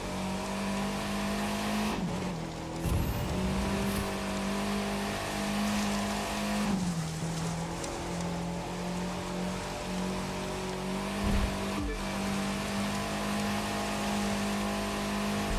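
A race car drifts in The Crew 2 on the USST West summit special stage, its engine droning steadily at close range while tires squeal in short bursts three times.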